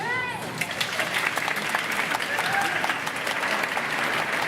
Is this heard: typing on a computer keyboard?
no